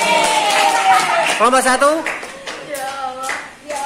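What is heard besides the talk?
classroom applause for student groups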